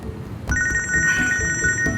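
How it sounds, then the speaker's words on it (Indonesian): A mobile phone ringtone plays a steady electronic tone that starts about halfway through and keeps ringing over low room noise and rustling. "Kang, kok berhenti? Maaf, Po. HP saya bunyi."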